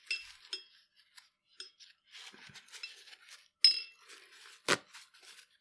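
A watercolor liner brush is swished and tapped against a glass water jar, giving a scatter of light clinks and watery swishes with one sharper knock near the end, close and fairly quiet, with no voice.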